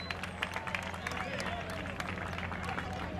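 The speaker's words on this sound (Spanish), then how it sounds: "para que pida un fuerte aplauso también." Applause from an audience at a community event in Ventanilla, a dense spread of many hands clapping at steady moderate loudness with crowd murmur beneath.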